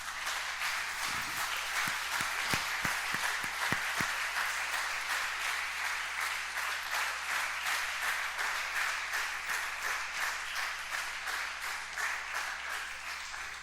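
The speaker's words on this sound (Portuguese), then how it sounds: "Você pode aplaudir o Senhor Jesus por isso?" A church congregation applauds, first with a few sharp close claps, then settling into a steady, rhythmic unison clapping that pulses evenly and continues throughout at moderate level.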